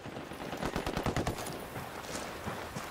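Gunfire in Ghost Recon Wildlands arrives as a quick cluster of rapid, sharp shots that dies away into softer ambient noise.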